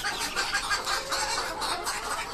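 A sick white hen on a backyard poultry setup, clucking in a continuous run of close, slightly raspy calls with no talk over it.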